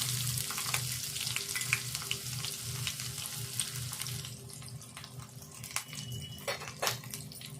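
Mustard seeds, cumin, green chili and onion frying in oil, a steady close sizzle with scattered crackles and a few louder pops, plus faint running-water sounds in the background.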